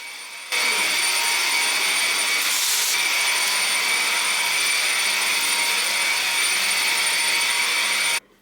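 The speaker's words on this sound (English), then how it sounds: "I've taken the vacuum into the kitchen now, and I'm going to go over all of the hard floors in the kitchen and in the play dining area as well." A vacuum cleaner runs over hard kitchen floors, a steady loud motor whine that starts abruptly, holds constant for about eight seconds, then cuts off.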